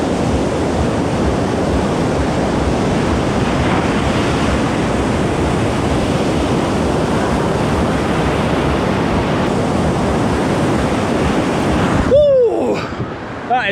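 Ocean waves break on a shore in a loud, continuous wash of surf, pushed by wind buffeting the microphone, with a brief change in the roar near the end.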